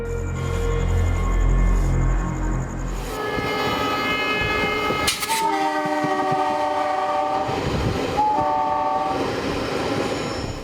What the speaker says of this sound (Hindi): वो ट्रेन में बैठ गया है